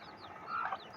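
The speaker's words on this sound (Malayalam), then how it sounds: "കോഴിക്കുഞ്ഞുങ്ങൾ" Chicks on a home farm give a few faint, high peeps in a single brief burst.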